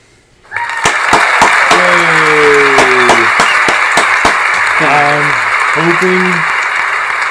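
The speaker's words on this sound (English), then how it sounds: "Clap your hands." A crowd applause sound effect played by a Google voice assistant bursts in and holds steady and loud, with harmonic voice-like tones and occasional sharp claps woven through it.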